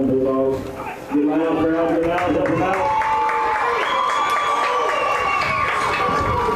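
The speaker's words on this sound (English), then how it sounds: "we're trying to get the crowd fired up here a little bit in the dog pound. They're pretty noisy tonight." A noisy home crowd roars and cheers in the student section at a night high school football game, loud and sustained with shouts rising and falling, and voices talking over it.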